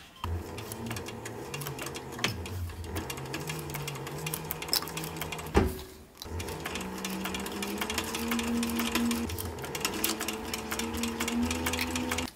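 A sewing machine top-stitches a short brim cap, its steady mechanical whir running in long stretches with a brief pause and restart midway, close and fairly loud.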